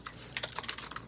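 Rapid typing on a computer keyboard, a quick irregular patter of close, crisp key clicks with no talking.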